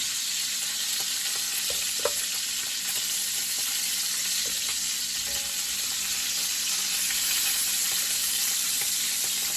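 Raccoon meat slow-cooks in bacon grease over moderate heat, a steady, close, even sizzle with occasional faint ticks and pops throughout.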